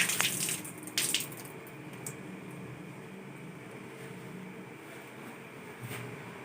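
A tap runs steadily while hands and forearms are rinsed up to the elbows during a handwashing procedure, a soft even water hiss with a couple of louder splashes near the start.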